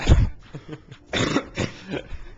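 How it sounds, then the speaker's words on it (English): A few rough, throaty coughs in quick bursts, close to the microphone, with short pauses between them. "I've got a cough."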